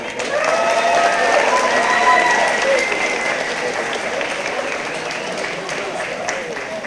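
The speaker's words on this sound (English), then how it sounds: "Round of applause for these guys." An audience at a school moving-on ceremony applauds loudly, a dense burst of clapping that swells in the first seconds and then tapers slightly, with some voices mixed in.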